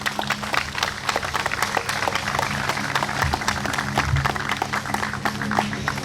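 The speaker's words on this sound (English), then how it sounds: "If we could all, for a round of applause for our young men and women who serve in the Air Force JROTC." Applause for Air Force JROTC cadets at an outdoor healing garden dedication in Peabody, a steady crowd of many hands clapping densely and evenly for about six seconds, with no talk over it.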